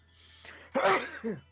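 A single sharp sneeze close by, preceded by a soft intake of breath and followed by a brief vocal trailing sound.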